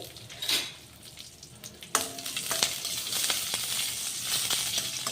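Curry leaves and green chillies crackle and sizzle in hot oil for a tempering, with a sharp pop near the start and a steady frying hiss throughout.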